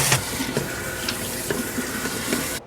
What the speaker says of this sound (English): The next step is to add about 2 inches of water to the brewing keg.